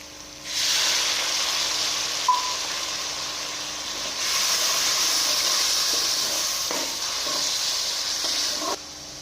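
Tomato and chili masala sizzles loudly as a little water is added, a sustained bright hiss rising at once and continuing with faint stirring clicks.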